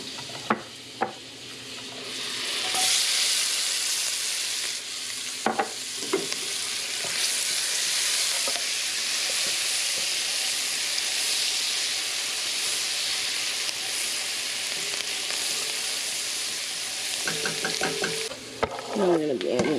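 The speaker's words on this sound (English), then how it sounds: "Now I'm going to be adding my onions. And I'm just going to be adding them, cooking them for a while." Onions frying in oil for a Mexican esquites cup, a loud, steady hissing sizzle that swells as they go into the pan, with occasional stirring clatter near the start and end.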